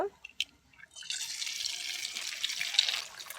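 An egg goes into a little hot oil in a pan. A few faint clicks and taps come first, then a soft, even sizzle rises and holds, close and moderately quiet with no voices.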